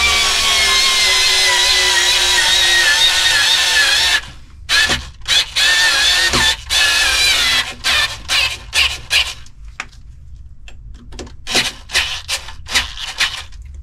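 A Truper 3.6V cordless screwdriver drives a 2.5 screw, starting with about four seconds of steady, loud motor whir, then breaking into a string of short ratcheting bursts separated by brief gaps.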